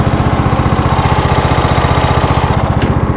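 A rebuilt lawn mower engine runs steadily up close, its loud, even, rapid firing pulses sustained throughout with a brief higher-pitched blip near the end and no voices.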